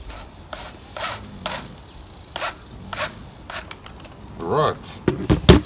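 Press stud snapping into place on a fabric camouflage cover for a trail camera, several sharp close clicks and snaps scattered amid handling rustle, with a person talking between them.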